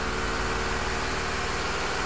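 A Mitsubishi Fuso 4M50 diesel engine with a fault idles loudly and close, a constant dense rumble with steady low throb across the whole short stretch.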